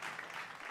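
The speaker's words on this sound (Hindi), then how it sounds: "जोरदार ताली बजा लीजिए" An audience at a Mumbai poetry recital applauds in a brief, dense burst of clapping.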